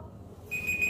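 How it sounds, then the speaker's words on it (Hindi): A timer alarm set for a dare challenge game starts halfway through, giving a steady, thin electronic beep over faint room noise, with no voices. "मैं टाइमर स्टार्ट कर देती हूँ"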